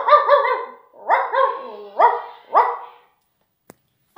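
A human voice imitates a dog barking, producing four loud, close, rough barks in quick succession followed by a brief pause and a small click.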